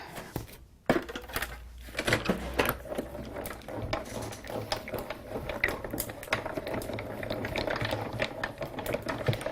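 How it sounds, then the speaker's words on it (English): Card cranked through a die-cutting machine in a crafting session: a steady, busy stream of mechanical clicking and rumbling that runs for several seconds after a brief pause. "we're going to run this through the die cutter"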